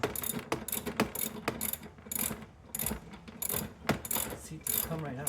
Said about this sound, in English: Basically just taking this last bolt out here.